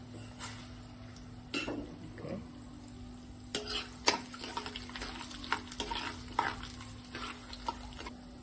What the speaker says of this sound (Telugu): కొంచెం ఫ్రై అవనిద్దామండి అది ఇప్పుడు ఆవాలు మినపప్పు వేసేద్దాం